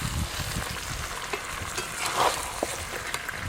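Chicken curry masala sizzles loudly in a frying pan while a spoon stirs and scrapes through it, with a continuous hiss and small irregular clatters close up.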